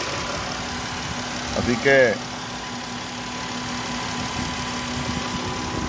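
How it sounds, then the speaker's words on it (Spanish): A car engine, started with a tester during a fuel pump bypass test, idles with a steady mid-pitched hum and light vibration while someone talks over it in Spanish, with a brief louder rattle partway through. "Y ahí está jalando y se escucha el motor."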